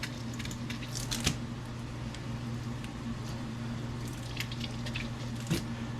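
Thick barbecue sauce glugs and squishes out of a 40-ounce bottle in soft, irregular squelches over a steady background hum.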